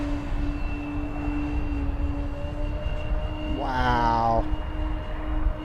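A high, whining electric motor on an FMS F7F Tigercat 1700mm RC airplane with 550KV motors surges in pitch for about a second over steady outdoor noise, with a brief exclamation from a person.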